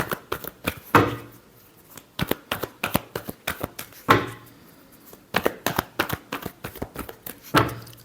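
Tarot cards are shuffled by hand in close, crisp bursts of riffling and tapping, several rounds separated by short pauses, with no talk over them.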